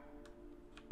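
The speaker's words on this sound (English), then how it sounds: "I went through the door and there's like a ticking sound." A clock ticks in the video game We Were Here First, a few faint, evenly spaced ticks over a low steady game ambience.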